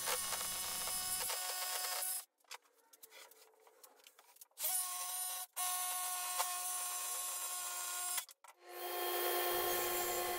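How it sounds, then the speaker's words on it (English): A jigsaw cuts hard maple boards in loud, close bursts of rapid buzzing and rasping, with short gaps where the blade stops between cuts and no talking. "I'll get started by breaking them down to rough length using a jigsaw"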